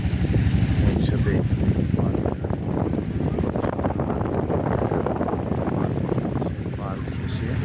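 A boat on a river with wind buffeting the microphone: a continuous loud low rumble and roar under steady gusty noise, with faint voices of people aboard in the background.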